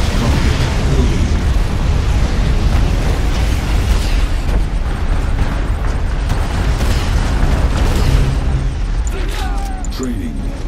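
Nuclear missile strike in the real-time strategy game Tiberium Wars, a loud continuous roaring blast with rumbling bursts and crackling debris, with game voice lines over it.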